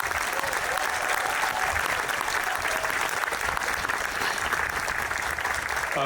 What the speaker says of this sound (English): give the members of the Gardena Police Department a round of applause